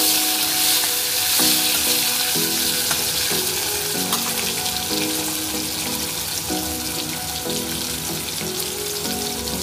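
Chopped tomato frying in a pan makes a loud, dense sizzle throughout, with stirring scrapes and a faint tonal ringing pattern in the background, no voices.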